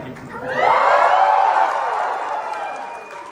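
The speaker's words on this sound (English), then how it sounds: "please cheer as loud as you can" An audience at a fursuit dance competition cheers, shouts and applauds loudly, the roar swelling after a moment and then slowly tapering off.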